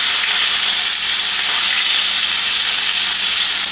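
Steak frying in butter in a very hot pan on a gas stove just after being flipped, a loud, steady, dense sizzle that holds unbroken throughout with no one speaking.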